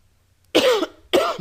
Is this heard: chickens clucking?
no